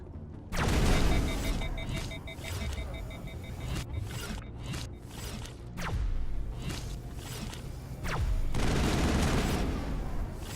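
Gunfire in the Mass Effect video game: bursts of rapid shots and sharp booms in uneven clusters, loud and close, with brief gaps between volleys and faint game effects.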